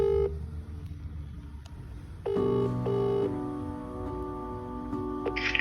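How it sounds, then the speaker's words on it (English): A FaceTime video call ringing, a repeating electronic tone pattern that starts after a short pause and keeps cycling in steady pulses over a low background hum. "I'll FaceTime my wife now"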